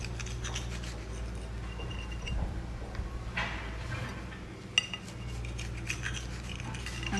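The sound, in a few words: cutting food into four slices with cutlery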